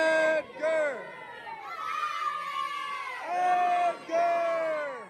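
Young fans at a 2023 WIAA Level 1 high school playoff football game, Glenwood City at Edgar, shout a loud rhythmic chanted cheer in bursts. The crowd's voices rise and fall together with short pauses between phrases.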